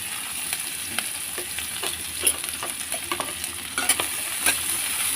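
Sliced onions with black cumin seeds sizzle steadily in hot oil, a close, continuous frying hiss broken by light scraping strokes of a stirring spoon.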